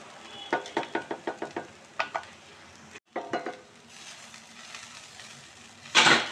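Radish leaves and dal being roasted and stirred in a pan for mooli ki bhujiya: a run of rhythmic spoon scrapes and knocks against the pan over a soft sizzle, a short pause, more stirring, then a louder burst of sizzling.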